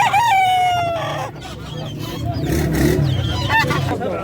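Chickens and other fowl at a Friday bird market in Al-Aziziyah: a rooster crows loudly, then clucking, honking and squawks mix over a busy crowd murmur.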